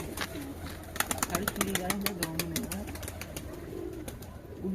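A pair of Nazra pigeons coo close by in repeated low, rolling calls, joined by sharp clicking and handling noises, while someone talks over them.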